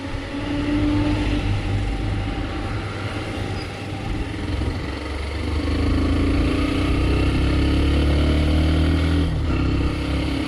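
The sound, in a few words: Hero Xtreme 125R motorcycle riding off-road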